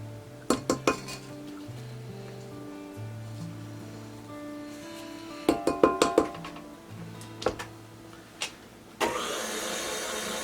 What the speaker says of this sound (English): So we're going to continue mixing this until it all comes together.